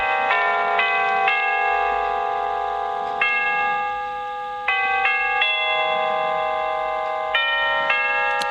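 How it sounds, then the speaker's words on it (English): Electronic chime from a battery mechanism fitted in a vintage 1912 clock, playing Ave Maria as a clear, close sequence of bell-like tones. The notes ring in steady phrases with a brief dip partway through. "we should do some testing and see what it sounds like before we fit it all in, make sure it does chime"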